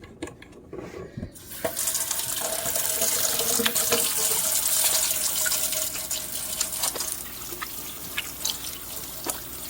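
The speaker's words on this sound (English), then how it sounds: "I'm gonna head over here and wash my hands again real quick." Hands being washed under a running kitchen tap, heard as a steady close rush of water into a sink with splashes and drips, starting after a brief quiet moment.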